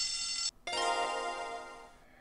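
A clock chimes in the PC game Hugo, a bright ringing with sustained tones, a short break, then a second longer ringing tone that slowly fades.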